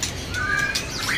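A forest magpie-robin (murai hutan), a wild-caught bird, sings a few clear whistled notes and short chirps close by, with no talk over it.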